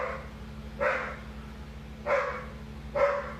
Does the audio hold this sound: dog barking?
yes